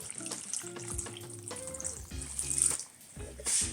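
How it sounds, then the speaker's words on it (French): Water pours and splashes steadily onto salted napa cabbage in a bowl for homemade kimchi, a fairly quiet hiss with background music throughout. "à ce moment-là, on va rajouter de l'eau"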